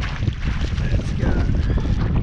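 A strong winter gale blows across Lake Macquarie while fishing, roaring continuously into the microphone as loud, buffeting wind noise.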